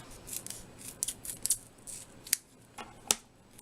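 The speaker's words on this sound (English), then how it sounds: "And I'm going to cut this in half." Scissors snip through thin foam adhesive, a run of close, crisp cuts with a few sharper snips near the end, heard alone without talk.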